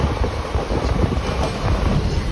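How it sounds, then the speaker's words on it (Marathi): Onboard a summer special train running through Kopar station without stopping, a loud, steady rush of wind and rumbling wheels fills the air, continuous and close, with no voices. "कोपर स्टेशन क्रॉस करते ट्रेन. ही ट्रेन ह्या स्टेशनला थांबत नाही."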